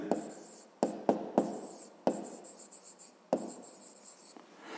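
Chalk strokes on a board as math is written out, a series of short scratchy taps and scrapes in quick bursts with small pauses, close and fairly quiet, with no talk.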